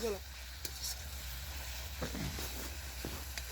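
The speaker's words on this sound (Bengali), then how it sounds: "এখন পেঁয়াজ রসুন কষা হচ্ছে আদা দিয়ে" Onion, garlic and ginger fry in a pan over an outdoor cooking fire, a soft steady sizzle with a few scraping stirs, fairly faint.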